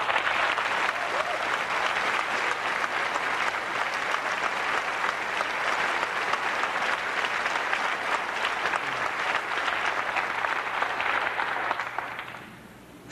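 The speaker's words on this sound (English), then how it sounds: "Let's give them a round of applause." Audience applause fills a hall at Applefest, an Apple company event: steady, dense clapping from a large crowd, sustained and even before tapering off at the end.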